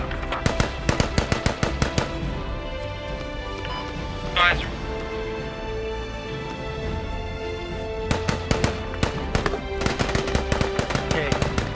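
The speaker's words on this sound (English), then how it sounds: "I think that's sniper fire." Rapid bursts of sniper and automatic gunfire in the military shooter game Squad, sharp repeated cracks clustering at the start and again near the end, with background battle noise and voices talking throughout.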